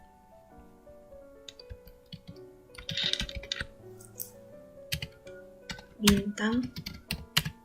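Computer keyboard keys clatter in irregular bursts as a MySQL query is typed in a music database tutorial, with someone speaking briefly over the typing.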